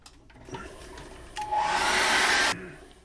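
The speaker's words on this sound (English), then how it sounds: "I'm going to dry that off once more with a hairdryer" A hair dryer blows close by for about a second, drying acrylic paint on a Christmas card, with a steady rushing whir that cuts off abruptly, after a brief quieter start.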